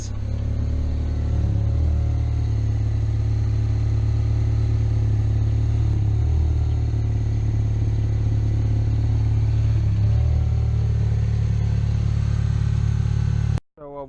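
An old car, just started, idles with a steady, deep rumbling engine hum that holds constant and loud before cutting off abruptly near the end.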